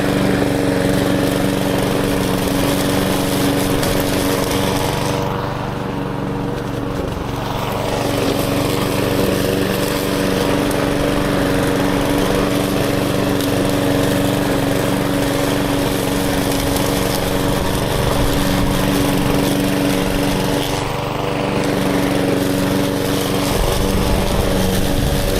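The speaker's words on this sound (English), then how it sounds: "Easiest to mow this like this" A petrol lawn mower cuts grass on a farm, its engine droning loud and close without a break, the pitch dipping briefly as it works through heavier patches.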